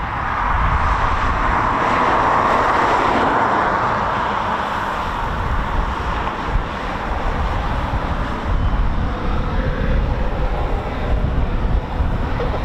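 Eurofighter Typhoon FGR4 jets of an RAF QRA flight of two on scramble at an airfield, a steady loud broadband jet roar sustained throughout with no talk.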